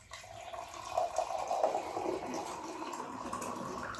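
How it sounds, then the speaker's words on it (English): Hot water from a freshly boiled tea kettle is poured into a cup. A close, gurgling liquid stream rises in pitch as the cup fills, then settles into a steadier splashing trickle, with no talking. "I'm going to put some nice hot water in it."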